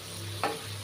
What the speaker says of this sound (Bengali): এবার এটা ভালো করে নেড়ে চেড়ে